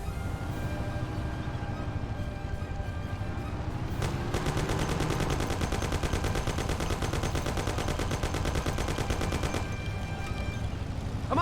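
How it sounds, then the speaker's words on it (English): Sustained rapid Thompson submachine gun fire in the Mafia: The City of Lost Heaven video game, a long steady automatic burst over a rumbling vehicle engine, preceded by a sharp single crack. "Take my Thompson. You and Sam shoot them."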